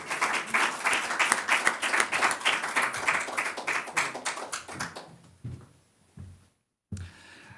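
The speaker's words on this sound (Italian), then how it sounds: "lo accogliamo veramente con un grandissimo applauso" A festival audience claps for the arriving mayor, brisk, fairly close applause that holds steady for several seconds and then thins out into a few scattered claps and taps before falling quiet.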